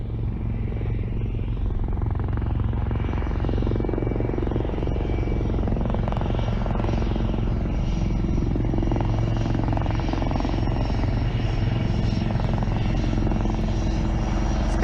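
A Cheetah military helicopter arrives to extract special forces troops at a defence expo demonstration, its steady rotor thump and engine roar loud and continuous throughout, with no talk over it.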